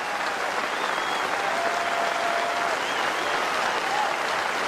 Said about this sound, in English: Stand and applaud and marvel at the determination, the skill, the application of New Zealand's captain.